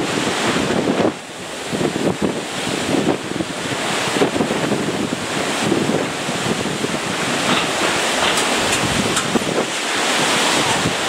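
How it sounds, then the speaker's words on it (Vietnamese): Strong stormy wind roars continuously outdoors with heavy buffeting against the microphone, gusting loudly throughout as rain arrives during bridge-building work over water. "Quá gió à các bạn. Khủng khiếp luôn. Gió mà tới công chuyện luôn á."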